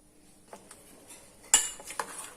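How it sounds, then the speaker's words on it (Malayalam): A spoon scrapes and clinks against a pot as cooked pressure-cooker aviyal is moved to another vessel, with a few sparse knocks, then a louder metallic clank and more light taps in a quiet room. "ഇനി നമുക്കിത് വേറൊരു പാത്രത്തിലേക്ക് മാറ്റാം"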